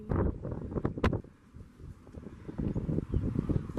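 Gusty wind buffets the microphone outdoors as a thunderstorm approaches under a shelf cloud, loud rumbling blasts easing briefly before surging again.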